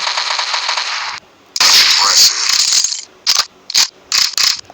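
Gunfire in the video game Special OPS: a sustained burst of rapid automatic fire followed by a string of short, loud separate bursts, each cutting off sharply, with no talk over it.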